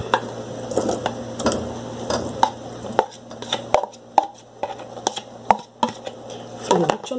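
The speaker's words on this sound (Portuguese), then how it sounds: "vamos voltar com o nosso franguito para a nossa panelita" Sharp clatters and knocks of chicken fillet pieces tumbling back into a pan, irregular and close, over a low steady hum.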